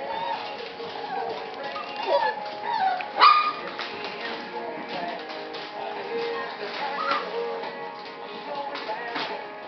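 Puppies whimper and yip in short bursts over steady background country music, with a louder cluster of yelps near the middle.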